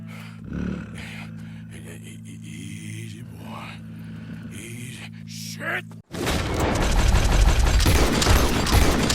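Gunshots in Red Dead Redemption 2 burst into a dense, loud barrage of rapid shots and booms after a stretch of quieter game sounds with brief voices.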